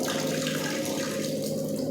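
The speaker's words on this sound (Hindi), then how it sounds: "और चालू होने के बाद ये वेस्ट वाटर यहाँ फेंकना शुरू कर देता है।" Waste water from an Aquaguard water purifier gushes out steadily in a continuous, fairly loud rush of flowing water, with no talking.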